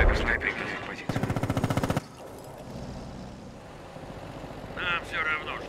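Machine-gun fire in the Company of Heroes Stalingrad 42 mod: a loud, rapid burst of about a second among battlefield noise, with shouted Russian voices before and after it.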